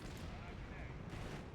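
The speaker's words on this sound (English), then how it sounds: "The pack gun's gonna get one more shot on you" An anti-tank Pak gun fires in Company of Heroes 3 amid a dense, continuous wash of battlefield gunfire and booming explosions, loud and low-heavy throughout with overlapping shots.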